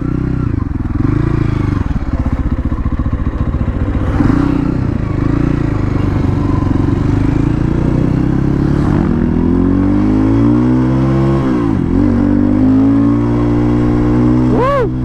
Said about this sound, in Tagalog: First time kong gumamit ng ganitong motor, no?